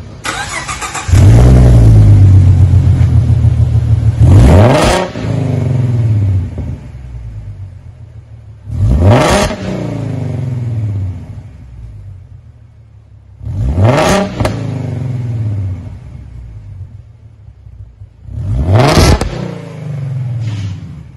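2015 Ford Mustang with short tube headers, a true X-pipe replacing the mid muffler and Roush mufflers: engine starts with a loud rumble, then four sharp rev blips spaced several seconds apart, each dropping back to a deep idle.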